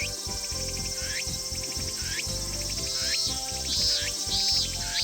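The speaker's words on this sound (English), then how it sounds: "The cicadas are singing energetically" Summer cicadas in the visual novel ef: The Latter Tale trill in repeating rhythmic bursts roughly once a second, layered over a steady tonal background.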